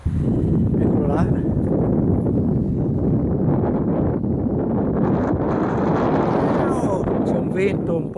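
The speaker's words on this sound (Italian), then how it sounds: "c'è un vento un po' forte" Strong mountain wind buffeting the microphone near a chapel at 1550 metres, a loud continuous roaring rumble with gusty swells throughout, while a person talks over it.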